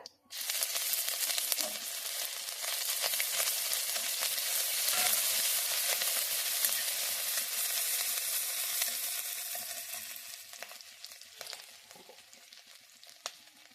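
Cumin seeds and ginger paste frying in mustard oil make a steady, fairly faint sizzling hiss that swells and then slowly fades, with a few small clicks of stirring.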